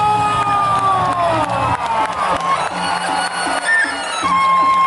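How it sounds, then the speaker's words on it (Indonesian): A crowd at a peresean stick-fighting bout in an arena cheers and claps loudly and continuously, with shouts and whistles rising over the din. "tepuk tangan penonton."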